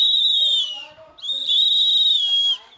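Shrill whistles blown by women in an apitaço protest in the Córrego do Euclides community of Recife, Brazil: two long, piercing blasts separated by a short gap, loud and close, with no talk.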